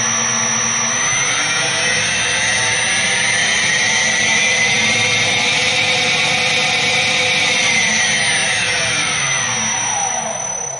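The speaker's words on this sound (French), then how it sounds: "le ventilateur qui est dessous se déclenche tout seul pour refroidir le moteur" Motor of a Linz metal lathe running steadily, with the cooling fan underneath switched on to cool it; a loud, continuous whir and hum with a high whine and slowly rising tone, no talk.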